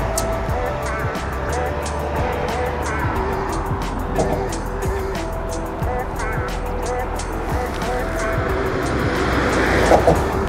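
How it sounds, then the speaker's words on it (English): Continuous roar of road traffic rushing past nearby on the Kessock Bridge in Inverness, a dense hum of engines and tyres that swells toward the end, with a voice talking over it. "Busy with traffic, so you may struggle to hear me."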